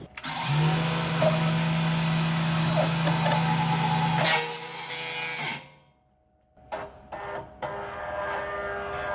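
A milling machine cutting into an engine cam held in a vise, for a NASCAR-engined Miata build, gives a loud sustained whine and grind for about five seconds, then cuts off into near silence with brief scattered mechanical noises afterward.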